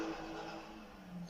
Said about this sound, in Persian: صدای موتور اومد نشنیدین؟ وای صدا موتور ماشین.